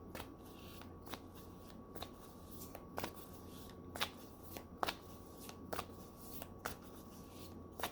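A deck of healing grief cards being shuffled, crisp riffling flicks recurring roughly every second over a steady background hum, close and fairly quiet.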